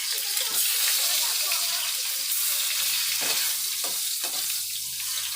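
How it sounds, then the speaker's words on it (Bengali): Eggplant pieces fry in hot oil in a wok, a loud dense sizzle close by that carries on without a break, with soft stirring scrapes now and then. "তেলটা আমার গরম হয়ে গেছে। আমি এখন বেগুনগুলো ভেজে তুলে নেবো।"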